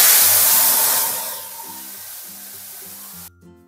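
Panch phoron spices hit hot oil on a high flame for a papaya and masoor dal, bursting into a loud, close sizzle. It settles to a quieter crackle over a few seconds, and a short clatter comes at the end.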